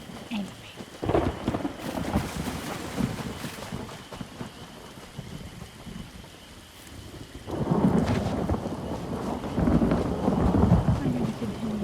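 Rain and rolling thunder from a thunderstorm in the video game Elder Scrolls Online, a steady wash of rainfall with a heavy rumble building louder toward the end.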